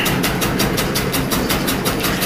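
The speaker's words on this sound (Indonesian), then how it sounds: "Ini proses perajangannya sudah menggunakan mesin." A tobacco-leaf cutting machine chops harvested Temanggung tobacco with a loud, steady, rapid mechanical rhythm, a close pulsing engine drone with regular beats.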